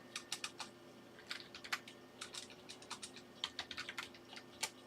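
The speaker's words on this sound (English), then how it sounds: "And then I have to type my good evening." Keys clatter on a computer keyboard in irregular bursts of quick taps with short pauses, close and moderately loud against a faint steady hum, with no voices.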